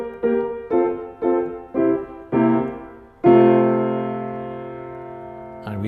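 A series of piano chords, five short detached ones followed by a final held chord in second inversion that rings and slowly fades, played clearly and alone without talk.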